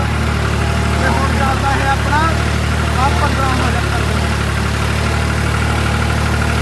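A tractor engine idles with a steady low, droning rumble that runs the whole time while someone talks over it nearby.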